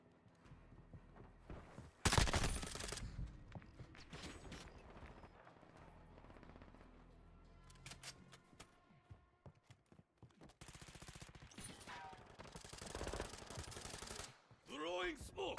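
Rapid bursts of automatic gunfire in a combat video game, loud sharp volleys in clusters with quieter stretches between, alongside game voices and effects.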